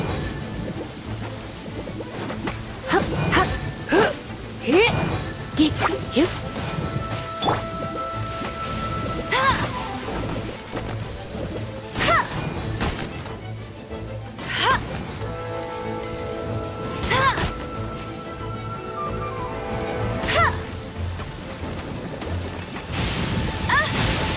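Rain and rolling thunder in the Genshin Impact video game, with repeated sharp thunder cracks over a steady wash of rainfall and faint game tones, continuous and fairly loud throughout.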